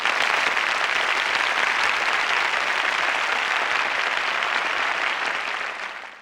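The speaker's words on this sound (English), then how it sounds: "made a light bow, and received applause from the audience" Audience applause at a concert in the game Symphonic Rain, a dense, steady wash of many hands clapping that stays loud throughout and fades out at the very end.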